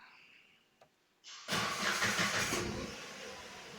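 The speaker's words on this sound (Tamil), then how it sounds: "நான் வண்டி ஸ்டார்ட் பண்ணி காட்டுறேன்" A used Datsun Redigo car engine cranks briefly after a quiet click, then catches and settles into a loud, steady idle close by, with no speech.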